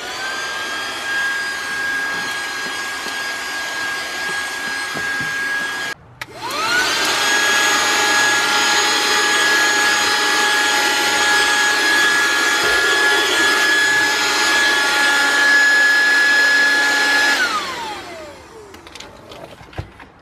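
A SehenTools 12V 60W car vacuum cleaner with LED light runs as a loud, steady high-pitched motor whine, cuts off briefly, restarts and holds, then spins down to quiet near the end.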